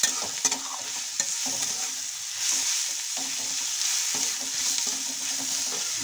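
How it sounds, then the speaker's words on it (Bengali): Spices and green chillies fry in a pan for muri ghonto, a steady close-up sizzle with occasional stirring scrapes and taps, and no talking. "মশলাটা ভাজা হয়ে গেছে।"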